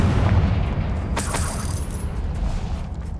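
A Confringo blasting spell in Hogwarts Legacy goes off as a loud, rumbling explosion with a bright crackling burst in the middle, over a steady low rumble.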